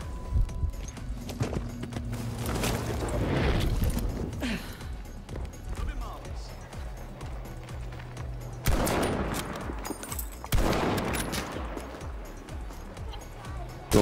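Battlefield 5 gunfire during iron-sight sniping: scattered sharp shots and short bursts crackle at mid distance amid game noise, with several louder clusters, while a player talks over them.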